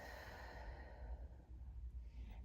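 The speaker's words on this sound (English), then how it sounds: "exhale through your mouth," A deep breath exhaled through the mouth during a post-hysterectomy Pilates breathing exercise, one long soft airy sigh close up that fades out over a couple of seconds.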